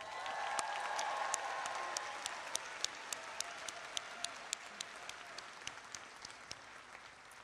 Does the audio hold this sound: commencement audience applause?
yes